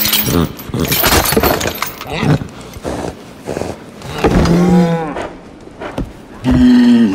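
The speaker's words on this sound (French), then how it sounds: "Vache." A cow moos several times in the ancient Egyptian setting of the video game Assassin's Creed Origins, long drawn-out lows mixed with other game sounds and a voice speaking between them.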